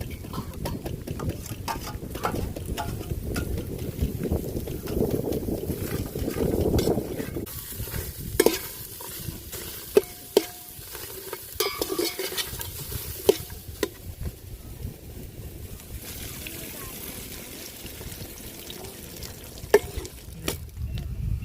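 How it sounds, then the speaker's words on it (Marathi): Onions frying in a pot for goat mutton curry, cooked outdoors by a river, with a steady close sizzle and repeated scraping, clattering stirs that grow sparser and quieter in the second half. "पातीला ठेवलंय आणि कांदा भाजून घेणार आहे"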